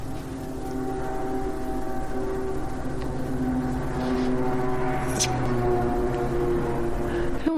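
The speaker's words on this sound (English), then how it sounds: "There's the train." A steady low rumble of a train passing at a distance, droning and humming continuously with a faint clank partway through.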